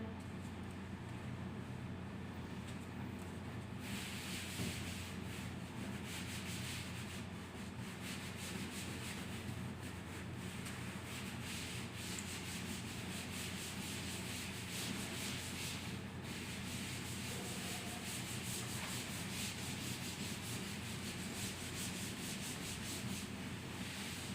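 Writing is rubbed off a board in a maths class, making a continuous, fairly loud scrubbing and rubbing noise that lasts over twenty seconds without pause.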